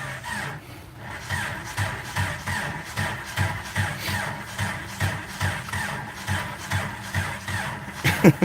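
A Ford Mustang engine with a suspected bad fuel pump cranks over and over in a steady, rhythmic chug without catching, close by, ending with a brief sharper burst.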